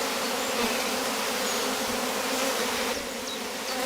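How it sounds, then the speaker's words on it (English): A steady, dense buzzing hum of a swarm of honey bees close by, continuous and unbroken throughout. "So this is a swarm of bees"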